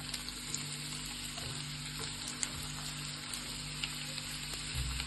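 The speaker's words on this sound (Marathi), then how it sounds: "ह्याच्यामध्ये आपण कांदा लालसर रंगाचा भाजून घेऊया" Long-sliced onion fries in oil until reddish for a Maharashtrian thecha paneer dish, a soft, even sizzle with light crackles, fairly quiet and close with no speech.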